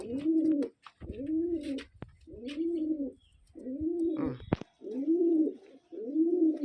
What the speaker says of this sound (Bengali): নর পায়রা মাদি পায়রা দেখুন কেমন লাগছে